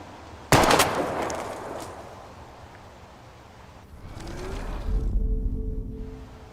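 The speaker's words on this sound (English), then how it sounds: "We're gonna shoot all these bottles without wasting a single bullet." A single loud gunshot cracks sharply near the start, aimed at bottles in the game Life is Strange, followed by a long fading tail and later some shuffling and a low rumble.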